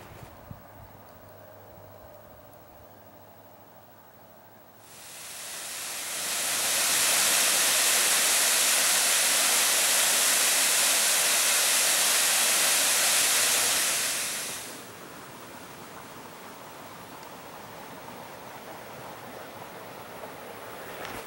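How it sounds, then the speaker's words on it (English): A winter waterfall in a mountain ravine on Mt Washington roars in a steady, loud rush that swells in, holds for about ten seconds, then fades back to a quieter background hiss. "We were both looking at that waterfall back there."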